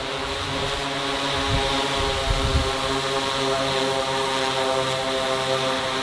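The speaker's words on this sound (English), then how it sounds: "Drone delivery in China, we're literally living in the future." A delivery drone in a Chinese city flies close by with a steady, loud propeller drone and a whining tone that holds throughout, with no talk.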